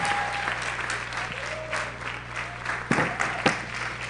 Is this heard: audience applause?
yes